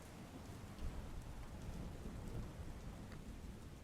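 A steady, dense roar of heavy rain pours down on Ahmedabad without pause, with a deep rumbling undertone, heard from a distance.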